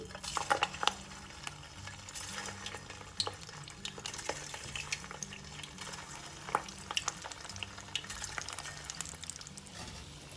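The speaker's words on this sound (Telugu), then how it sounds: "ఆయిల్ బాగా వేడయ్యాక మనం రెడీ చేసుకున్న ఉండల్ని ఒక్కొక్కటి వేసి వేయించుకోవాలి" Poha pakoda balls deep frying in hot oil, a soft, crackling bubble with sharp intermittent pops and clinks of utensils against the pan, close and fairly quiet, no talking.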